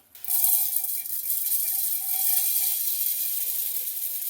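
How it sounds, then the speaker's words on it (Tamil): A kitchen mixer grinder starts abruptly and whirs steadily at high speed while grinding cooled sago in a mixie jar. The hiss is constant and close. "இப்போ நம்ம மிக்சி ஜாரில் நம்ம அரைச்சிக்கலாம்"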